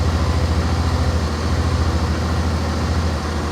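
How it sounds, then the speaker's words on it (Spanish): A Suzuki V-Strom 650 motorcycle idles slightly high at close range, a steady, even, loud low-pitched throb with a regular pulse throughout and no talking. "La moto está en marcha, ¿vale? Un poquito altita de ralentí ahora mismo"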